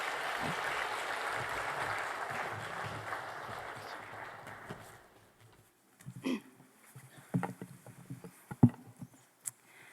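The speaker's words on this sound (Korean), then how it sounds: "여러분 큰 박수로 한번 환영해 주실까요?" Applause from a church congregation fills the first half, a dense steady patter that fades out, followed by scattered knocks and shuffling.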